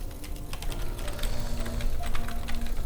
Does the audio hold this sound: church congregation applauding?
no